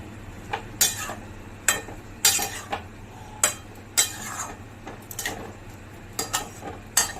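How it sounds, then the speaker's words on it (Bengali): Malabar spinach is stirred with poppy seed paste in a pan: a dozen or so close, sharp scraping and clinking strokes arrive in irregular bursts over a low steady background. "এটা পোস্তর সঙ্গে ভালো করে নেড়ে নেবো"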